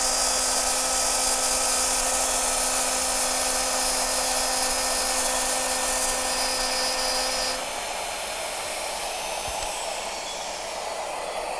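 A CNC router spindle whines at high speed while cutting, a loud steady tonal drone that suddenly drops in pitch and intensity as the rotation slows, then continues more softly.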